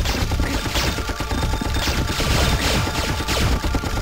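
Sustained automatic gunfire in the PS1 video game Apocalypse during a White House level firefight, dense continuous bursts, loud and close, with no talking.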